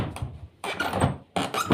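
A door swings open by itself with a few creaks, soft thunks and squeaks, heard as three short bursts close by.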